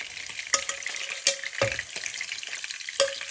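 Loud sizzling and crackling of onion and carrot halves frying in a pan without fat, broken by several sharp clinks and scrapes of a utensil stirring them.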